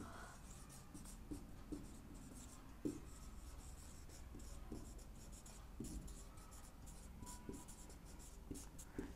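Faint scratchy strokes and occasional taps of writing on a board or paper during a thermochemistry derivation, quiet and intermittent against a soft background hiss.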